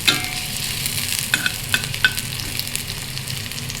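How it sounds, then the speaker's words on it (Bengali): Onions and dried chillies frying in a pan for a Bengali lentil dish, a soft steady sizzle broken by a few sharp spatula clinks and stirring scrapes, close and alone without voices. "পেঁয়াজগুলো ভাজা ভাজা হয়ে গেছে"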